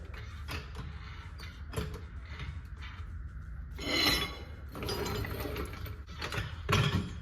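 A coil spring compressor is tightened on the front suspension of a 2008 Jeep Wrangler, giving a series of metallic ratcheting clicks and creaks in bursts with short pauses, close and moderately quiet.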